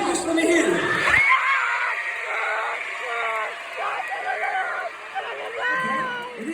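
A school audience at a D.A.R.E. graduation concert screams and cheers for a dance-off contestant, a loud sustained roar of high-pitched shouts and whoops that fades a little toward the end.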